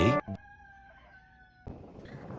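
A rooster gives a single drawn-out crow after a couple of short sharp sounds, fairly close but moderate in level. Household noise resumes afterward.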